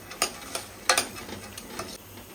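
Soaked, peeled val beans tipped into a pan and stirred, giving a few scraping, clattering bursts with a faint sizzle between them.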